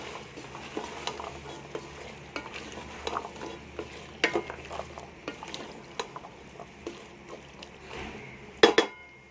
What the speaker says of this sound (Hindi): यहाँ पे इसकी अच्छी तरह हम भुनाई करेंगे।